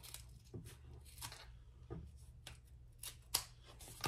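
Scissors trimming excess leather from a leather pouch, several quiet, separate snips spaced about a second apart against a low hum, each cut a short crisp crunch.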